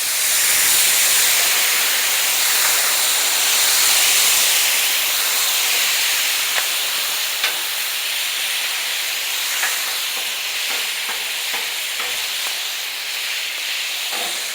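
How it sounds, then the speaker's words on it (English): Shrimp sizzles on a hot griddle, giving a loud, steady, broad hiss that carries on without a break, close up, with small pops and crackles scattered through it and no voices. "I'm going to take this shrimp and we're going to dump it all"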